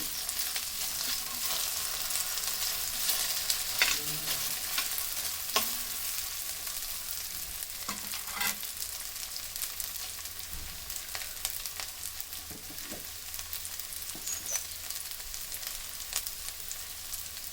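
Taro pieces fry on high heat, a continuous dense sizzle with occasional stirring scrapes, heard close and steady with no talking.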